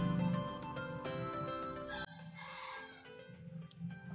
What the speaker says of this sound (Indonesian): Mohon maaf ada suara ayam.